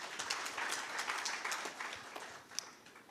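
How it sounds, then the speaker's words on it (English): Conference audience at a sustainable energy week event applauding a speaker's introduction, a distant, fairly faint patter of many hands clapping steadily throughout, with one sharper clap near the end. "A round of applause for Mr. Brunner."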